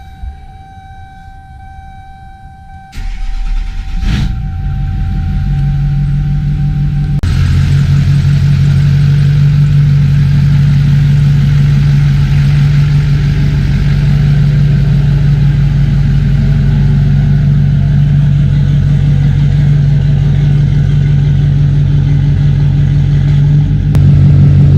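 A pickup truck's engine starts after a beeping chime, then idles with a loud, steady low rumble that steps up in speed partway through and holds there.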